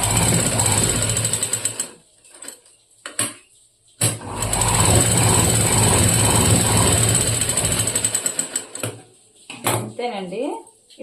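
Sewing machine stitching a boat neck blouse, running in two long steady whirring bursts separated by a short pause, with scattered handling clatter and a brief voice near the end.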